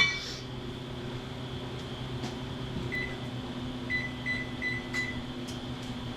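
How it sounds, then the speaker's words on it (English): A kitchen oven being switched on, a few short electronic beeps in a quick row over a low steady appliance hum, close and fairly quiet. "I'm going to go ahead and start my oven for"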